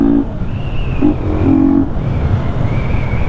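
Yamaha FZ 250 motorcycle running without an air filter, a loud, throaty engine drone that swells and shifts pitch while riding in city traffic.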